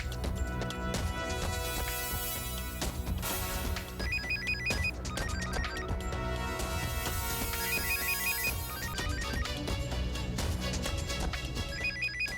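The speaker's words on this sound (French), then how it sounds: "C'est la sonnerie du téléphone de Pia, et le son a l'air d'être proche de moi." A melodic phone ringtone plays loudly and continuously, its repeating chime pattern layered over dense musical backing.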